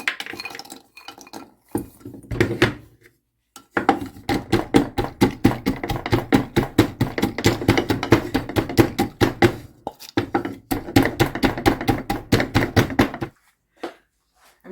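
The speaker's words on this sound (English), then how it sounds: "I will use my pestle to do my cashews little by little" Cashews are crushed little by little with a pestle, giving a rapid run of sharp, close knocks and crunches in steady rhythm, broken by a few brief pauses and ending in isolated taps.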